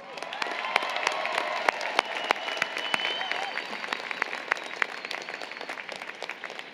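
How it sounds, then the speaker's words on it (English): A round of applause at a university commencement for engineering and computer science graduates, with sharp individual claps standing out over a steady crowd wash that gradually thins toward the end. "let's also celebrate your entire family and all of your friends with a round of applause"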